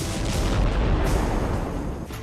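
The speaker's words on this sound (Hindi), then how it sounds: "फिर एक जोरदार धमाका हुआ।" A loud, rumbling explosion in Beirut with a sustained roar that fills the whole clip, heavy low-end boom fading slightly toward the end.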